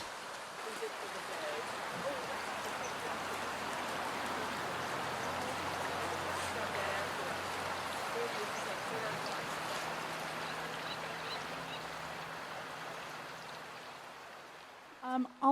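Water in Blue Heron Creek, in Blue Heron Park, flows with a faint, steady rushing babble that runs on without a break.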